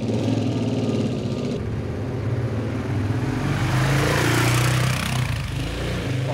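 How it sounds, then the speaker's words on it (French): A motorcycle engine rumbles loudly nearby, its roar swelling as it passes close by. "On va peut-être laisser passer la moto."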